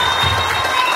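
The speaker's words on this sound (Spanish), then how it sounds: "Este aplauso para ustedes." Audience applause at a closing gala for a school arts academy, dense clapping with some cheering and crowd noise, loud and close for about a second.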